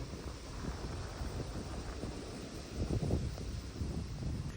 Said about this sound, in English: This huge breeze is blowing through right now.